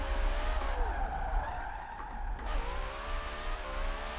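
An RTR Mustang skids under the e-brake in Forza Horizon 4, its tires squealing in a long sustained wail over a steady engine roar, continuous and loud throughout.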